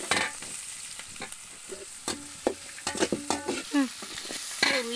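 Sliced onions and green chillies sauté in a pan for a Palakkad-style ash gourd meat curry, sizzling softly under sharp scraping and clattering stirring strokes that come in quick bursts.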